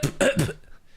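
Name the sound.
person imitating a cough to cover a fart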